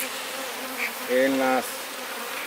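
A swarm of aggressive honeybees buzzing around a large, honey-heavy comb being moved into frames, a steady insect drone with a louder, nearer buzz passing close by midway.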